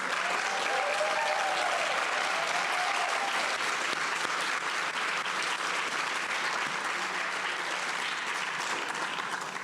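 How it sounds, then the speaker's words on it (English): At the 2021 State of the District event, a large audience applauds Alachua County staff with sustained, dense clapping that stays loud and steady for nearly ten seconds, with a brief whistle or voice near the start. "If you would please just stand up so everyone can applaud you."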